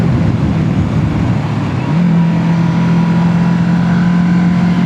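A Kawasaki Z650 motorcycle ridden hard on smooth pavement, its engine droning steadily with a deeper rumble that rises into a sustained, higher, strained tone about two seconds in, loud and continuous with wind noise and no talking.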